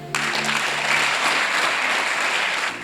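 A church congregation at a Sunday service breaks into loud, sustained applause, a dense wash of clapping from many hands that holds steady for nearly three seconds before easing off.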